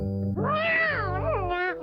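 A cartoon cat gives a drawn-out, rising and falling meow, close and clear, with no other voices.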